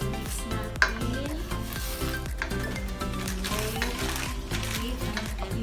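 Penne pasta being stirred in a pan for pesto penne with tuna, a steady scraping and sizzling texture with soft regular clinks of the utensil against the pan, continuous and close.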